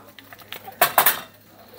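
A spoon clinks against the inside of a metal pot while candy cane cough syrup is stirred, giving a few light taps and then two louder close scrapes and clanks in quick succession.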